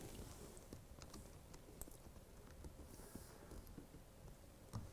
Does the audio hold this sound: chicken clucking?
no